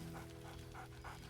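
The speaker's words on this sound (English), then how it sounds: "Scratch barks merrily in something like agreement." Scratch, a dog companion in the game Baldur's Gate 3, pants softly in steady rhythmic breaths, a faint regular huffing over a low background hum.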